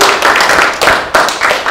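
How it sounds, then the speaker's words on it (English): Audience applause for Brian Burch at a storytelling event, a steady burst of many hands clapping close and loud, with rhythmic peaks and no talking. "Can we please give him a big round of applause?"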